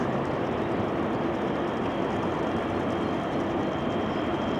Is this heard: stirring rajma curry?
no